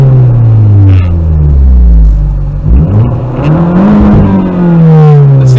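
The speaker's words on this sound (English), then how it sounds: "rev it up" A car engine revs hard with the windows rolled down, loud and close, the pitch sweeping up and down through several rising and falling surges over a steady rumble.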